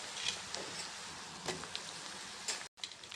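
Chopped tomatoes go into onions fried pink in oil for Punjabi sarson da saag, producing a soft, continuous sizzle with a few light ticks and spoon taps, close by.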